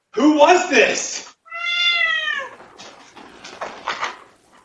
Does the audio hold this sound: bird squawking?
no